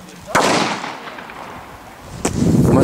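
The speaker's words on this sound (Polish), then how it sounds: "To jest petarda. Rzuć tam daleko." Firecracker thrown and going off outdoors on a New Year's Eve night, two sharp cracks roughly two seconds apart with a rumbling echo trailing the first, loud and fairly close against background noise.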